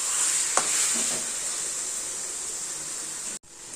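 Taro leaves with salt are stirred in a hot pan, giving a continuous bright sizzle with a brief scrape near the start, steady and close until it cuts out near the end.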